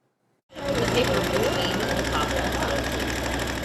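After a brief silence, a machine starts up and runs with a fast, steady mechanical whirring and rattle, loud and close.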